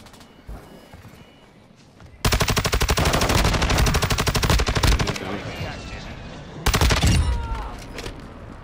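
Video game gunfire comes as a loud, close, sustained automatic burst with rapid evenly spaced shots. A second shorter burst follows after a pause, and faint background game noise runs between the bursts.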